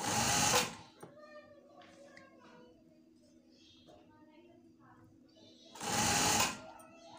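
A sewing machine runs in two short bursts while stitching a shirt, with someone talking between and over the quieter stretch.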